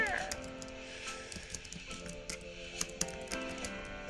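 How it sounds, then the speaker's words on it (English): Keyboard typing during a writing sprint, a run of light irregular clicks with a few sharper taps, close and fairly quiet over a steady low background hum. "I'm still typing this."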